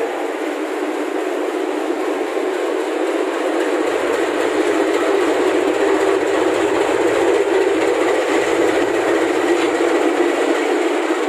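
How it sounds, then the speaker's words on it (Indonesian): A locomotive shunting on track 3 at Surabaya Pasar Turi station rumbles steadily and loudly from close by, a continuous rolling rail noise with no voices. "ini di jalur 3 ada seruntulan lokomotif ya, lokomotif stiker Natal."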